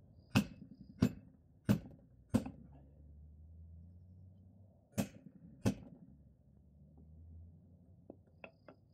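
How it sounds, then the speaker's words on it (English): A greased piston being tapped into a Timbren suspension bushing, a series of sharp, close metallic taps in uneven bursts with quiet gaps between, then lighter taps at the end. "grease up the piston, and then tap it in"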